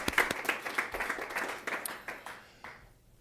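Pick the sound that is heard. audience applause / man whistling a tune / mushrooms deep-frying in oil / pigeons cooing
audience applause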